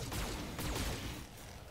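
Four weapons in a video game discharge together in a dense, loud burst of overlapping shots, a short rolling volley that fades quickly.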